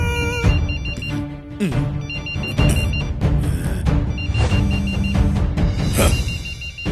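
A cartoon character imitates a mobile phone ringtone with his voice, a repeating beeping melody heard in bursts over busy background music and clatter.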